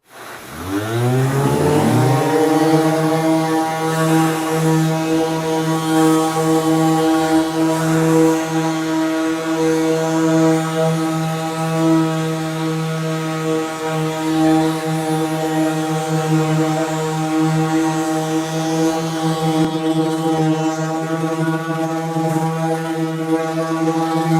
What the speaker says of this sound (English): The dust extractor is corded. The sanders are cordless, running their 18-volt batteries.